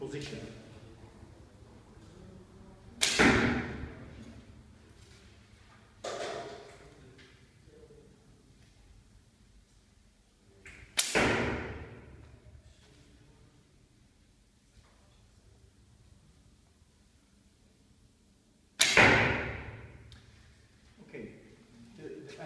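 Three arrows loosed from a Turkish bow made by Zsolt Csermak, each a sharp, loud snap of string and limbs with a short decaying ring, spaced several seconds apart against a quiet background.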